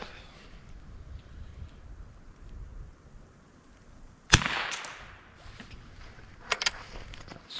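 A single sharp crack from a .22 pellet rifle cuts through quiet outdoor background, followed by a couple of fainter clicks.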